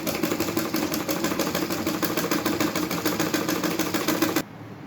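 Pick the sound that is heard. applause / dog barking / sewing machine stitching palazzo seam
sewing machine stitching palazzo seam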